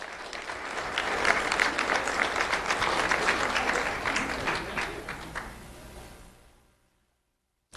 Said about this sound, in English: Let's have a round of applause for Abigail Charles.